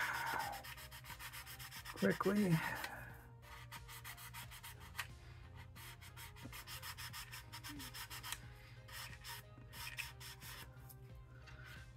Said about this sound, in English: I'll come in here with the sanding stick